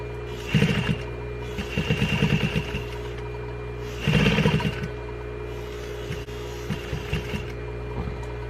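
A sewing machine stitches back and forth across a darted drawstring mask made from an upcycled T-shirt, running in several short, close bursts with brief pauses between them.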